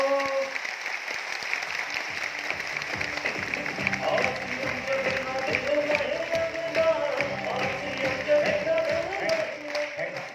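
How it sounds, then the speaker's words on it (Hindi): An audience claps loudly and continuously at a motivational talk in Aurangabad, a dense sustained applause with a voice faintly heard beneath it. "लेफ्ट वाले हाथ को जोर से ताली बजा के लाल करना है"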